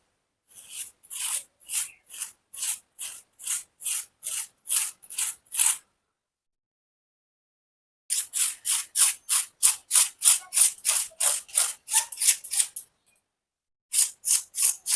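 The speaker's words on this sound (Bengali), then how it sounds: "আমি একটুখানি ধুঁদুলের এই খোসাগুলোকে ছুরি দিয়ে চেঁচে নেবো" A knife scrapes the peel off a ridge gourd in quick, rhythmic strokes, two long runs of crisp, close scratches separated by a pause, then a short final burst, with no talking.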